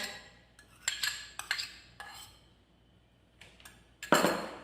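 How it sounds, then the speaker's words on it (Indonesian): A utensil stirs frying batter in a bowl after cooking oil is poured in, giving scattered scraping clinks and taps with a louder burst of clattering at the end, close by and with no voices. "Dan ini kita aduk sampai si minyak gorengnya itu tercampur dengan merata ya teman-teman."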